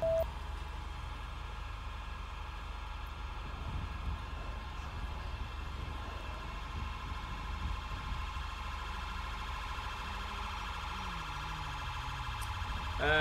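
Ambulance siren from the GTA 5 video game with British police vehicle mods, a loud continuous electronic wail with steady repeating tones held throughout, alone without talk.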